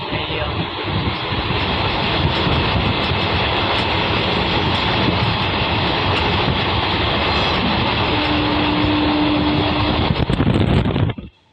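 A loud, steady rushing roar of the Rajkot to Morbi special train at full speed heard from inside, with a brief tonal whine near the end before it cuts off.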